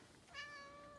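A cat in a snowy garage gives a single short meow, faint and close against a quiet background.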